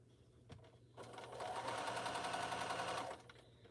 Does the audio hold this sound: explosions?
no